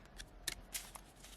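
Linen-textured tarot cards are shuffled close up, a handful of quick, crisp papery flicks and slaps, quiet and unaccompanied by speech.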